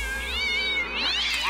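Cartoon cat meowing and caterwauling in the video game South Park: The Stick of Truth, a drawn-out, wavering yowl that rises and falls across the clip, loud and close with no talk over it.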